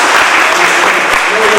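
A community forum audience claps in a loud, dense burst of applause, close and continuous, with some voices mixed in.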